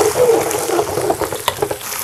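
Ginger, garlic and dried chilies frying in a wok of hot oil, a close, steady sizzle with stirring scrapes throughout, loud and without talk.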